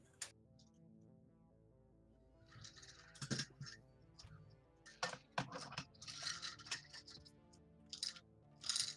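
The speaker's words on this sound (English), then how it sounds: "Because we can hear what you're typing." Computer keyboard keys clatter in quick, irregular bursts of close, crisp clicks, layered over steady background music.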